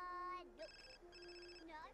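Electronic telephone ring from The Sims 4 game, a few melodic trilling bursts with short gaps, fairly quiet and clear.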